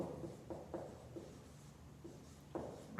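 Pen or marker writing out a word problem about a rectangle, faint close scratching strokes in a few short bursts with no talking.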